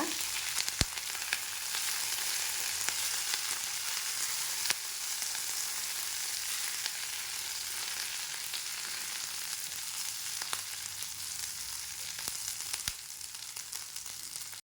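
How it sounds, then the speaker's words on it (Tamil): Green chilli and curry leaves sizzle steadily in hot oil for mint chutney, a dense continuous fry with a few faint utensil ticks, near and fairly loud, with no talking. "ப்ளஸ் கருவேப்பிலை கொஞ்சம் ஆட் பண்ணிக்கிறேன். இதை நல்லா வதக்கிக்கோங்க."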